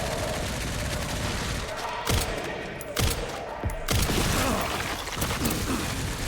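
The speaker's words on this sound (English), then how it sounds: "Who is shooting at me?" Rapid bursts of machine-gun fire ring out in the video game Resident Evil Requiem, loud and dense, with sharp individual shots breaking through a continuous barrage.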